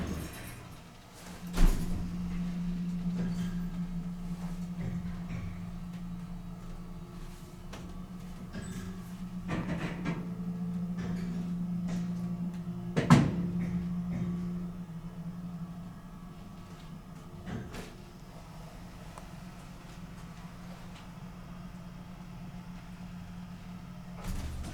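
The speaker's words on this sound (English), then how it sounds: "Alright, let's listen to the motor." A 1971 Montgomery hydraulic elevator's motor hums steadily at close range with a low drone. Two short louder clunks break in partway through, and the hum then carries on evenly without talk.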